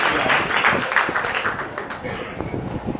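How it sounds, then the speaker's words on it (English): Applause from diners at a banquet, clapping rising briefly then thinning out, fairly close and loud with crowd noise and a voice faintly underneath. "Just give a quick round of applause to them."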